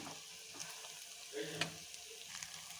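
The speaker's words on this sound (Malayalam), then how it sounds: "ഇത് ഓരോ നമുക്ക് ഇനി നമ്മുടെ എണ്ണയിലോട്ടിട്ട് കൊടുക്കാം" Batter-coated date balls frying in hot oil, a quiet steady sizzle and bubbling with a brief louder splutter near the middle, faint and without talk.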